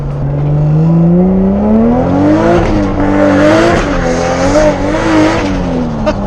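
A single-turbo 2JZ Toyota Supra making 550 hp pulls hard from inside the cabin, its engine note climbing through the revs in loud, rising sweeps with brief dips at gear changes and a harsh, roaring tone throughout.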